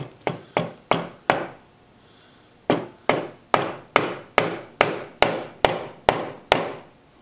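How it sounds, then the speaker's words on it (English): Steel chisel struck with a mallet, cutting into a redwood vase on a lathe, a run of sharp, evenly spaced wooden knocks, close and loud, with one brief pause before the blows resume. "I'm just taking a chisel and my mallet and..."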